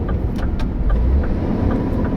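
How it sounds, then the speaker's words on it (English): A Scania truck's two-stage exhaust brake engages on the road, a steady low engine drone and exhaust rumble that holds evenly with no talking. "Yeah, 2-stage exhaust brake on this."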